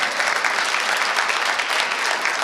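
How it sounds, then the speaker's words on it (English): Steady applause from an audience at a community comedy show night, moderately loud clapping sustained evenly throughout. "Another round of applause."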